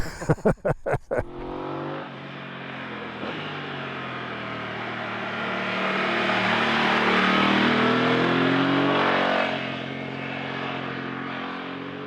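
A BMW F900 motorcycle engine drones while riding at about half throttle. The steady, close engine note with wind roar swells in the middle and then eases off, after a few sharp knocks at the start.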